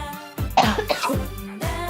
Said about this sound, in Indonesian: saya lagi batuk dulu ya